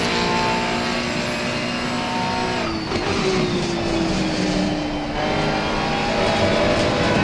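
Ferrari 296 GT3 race car engine in a racing game, a steady loud high-revving drone with gear-shift drops and rising pitch through corners at night on the Valencia circuit, continuous with no talk.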